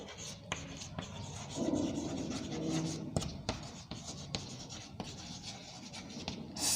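Scratchy, continuous strokes of writing on a board during a maths lecture on sets and neighbourhoods, close by, with occasional taps and light room noise but no talking.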